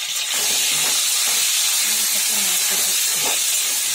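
Chopped tomato hits a hot pan and sizzles, a loud, dense, steady hiss that starts right away and holds evenly for the whole few seconds, close, with a voice talking faintly underneath.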